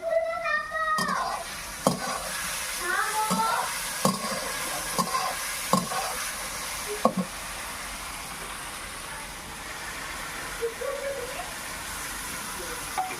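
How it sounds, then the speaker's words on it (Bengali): Cauliflower, potato and egg curry being stirred and fried in a pan, a steady sizzle with a series of sharp utensil scrapes and knocks at irregular intervals, close by, with no talk. "এবার হচ্ছে ফুলকপি দিয়ে আলু দিয়ে ডিমের ঝোল কাকিমা রান্না করছে"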